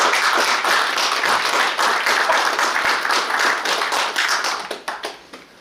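Audience applause at a founding convention, dense steady clapping from a crowd in a hall that thins into scattered claps and fades out near the end.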